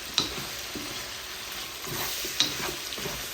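Bullet green chilies frying for a Peshawari chicken karahi, stirred with a steady sizzle and two sharp utensil clinks against the pan, no talking.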